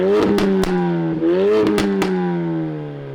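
MK3 Ford Focus RS engine revving, loud and close, with rising and falling tones and several sharp exhaust pops and crackles between the revs.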